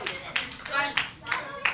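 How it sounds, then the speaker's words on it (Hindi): Children at a kids' summer camp clap in a few uneven bursts, close and fairly loud, mixed in with voices talking over them. "तालियां बजाओ"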